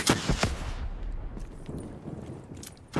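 Argus pump shotgun fire in Black Ops 3 multiplayer: two or three loud, close blasts in quick succession, then busy game noise with scattered distant shots.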